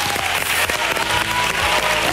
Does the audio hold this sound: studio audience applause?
yes